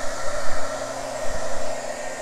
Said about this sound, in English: now I'm gonna hit this sucker with the dryer again